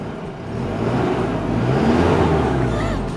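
A 4x4 diesel engine with a 3-inch exhaust and DPF runs with a loud, steady low rumble that swells slightly and holds throughout, recorded close by.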